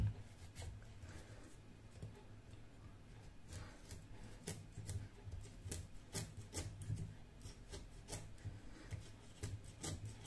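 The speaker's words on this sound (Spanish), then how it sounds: "Poquito a poco se va cortando." A knife slowly cuts through a pumpkin, giving a faint series of scraping, crunchy strokes with irregular clicks, close by and without talk.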